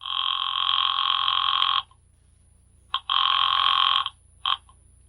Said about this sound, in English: he will pick up his phone and dial the private number of a highly placed friend